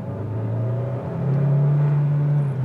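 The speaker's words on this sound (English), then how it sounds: "Now, I'll rev the engine a touch now so you can take a listen." A 2022 Hyundai Tucson Hybrid engine revs up steadily to around 2,500 rpm, a low droning hum rising in pitch and holding before easing off, close by with no talking.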